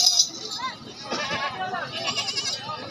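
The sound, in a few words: goat bleating at a goat market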